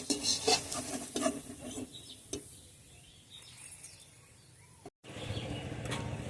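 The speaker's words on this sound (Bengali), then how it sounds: "বাকি পাকোড়াগুলো এভাবে ভেজে নেব। বাকিগুলো ভেজে উঠিয়ে নিচ্ছি।" Cabbage pakoras fry in oil with a soft bubbling hiss, interrupted by light clinks of a utensil against the pan, a quieter lull, and a fuller sizzle returning at the close.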